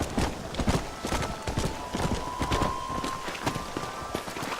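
Horse hooves trotting in the video game Red Dead Redemption, a steady rapid clip-clop of many close hoofbeats running continuously, with a faint tone in the background.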